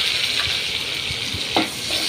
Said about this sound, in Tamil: உப்பு போட்டு நல்லா வதக்கி விட்டுட்டு இப்போது கட் பண்ணி வச்சுருக்கிற தக்காளி எடுத்து போட்டுடலாம்